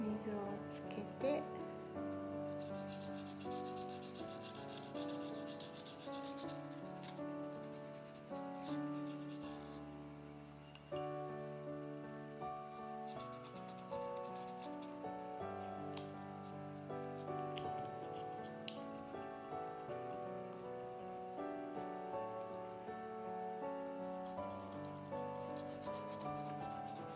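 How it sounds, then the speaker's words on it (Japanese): Fine 1500-grit sandpaper is rubbed wet over a piece coated in red bengara pigment during a crack repair, a soft, steady, close scraping with music and speech over it. "これをサンドペーパー1500番かこの特さを使って研いでいきます。"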